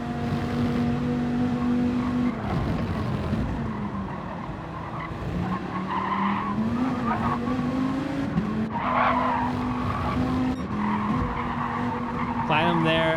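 Race cars roar through the corkscrew turn in a race, with engines loud and tires skidding continuously under a commentator's voice.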